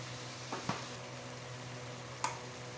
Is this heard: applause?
no